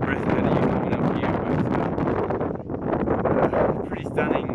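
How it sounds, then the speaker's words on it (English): Strong wind buffets the microphone high on a mountain pass along the Inca Trail in Peru, a continuous loud rumbling roar with gusty surges throughout. "Pretty windy and cold."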